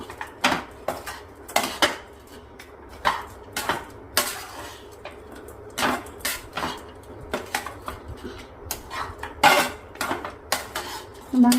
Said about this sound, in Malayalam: ശർക്കരയും തേങ്ങയും ഒക്കെ എല്ലായിടത്തും ആവാൻ പാകത്തിന് നമുക്ക് നന്നായിട്ടൊന്ന് ഇളക്കി മിക്സ് ചെയ്യാം